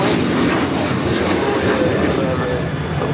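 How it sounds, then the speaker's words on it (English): Loud, steady jet roar of a United Airlines Boeing 737-800 taking off at LAX, a continuous broadband rumble filling the whole stretch with no break, with voices talking over it. "It's United Airlines flight 1832 heading to Vancouver, a 737-800."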